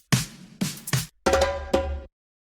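A reggaeton drum filler hits in punchy bursts: three quick strikes, a pause, then two longer booming hits with a tonal ring, followed by silence.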